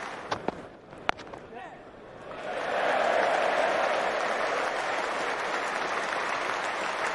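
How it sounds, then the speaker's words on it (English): Cricket crowd at Lord's during the 2014 England vs India Test, a few sharp claps giving way to a swelling roar of cheering and applause for a half century that stays loud and sustained. "A loud cheer for that half century for Liam Plunkett."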